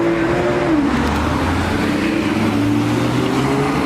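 A steady stream of Porsche sports cars, including models like the 918 Spider and Cayman GT4, rolls past in a continuous engine drone with overlapping passes and no single car standing out.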